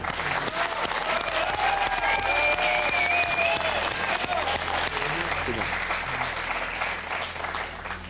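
An audience claps steadily and warmly for several seconds, with a voice speaking over the applause.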